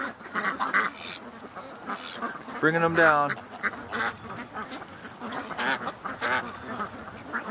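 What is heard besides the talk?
flock of geese and ducks calling while landing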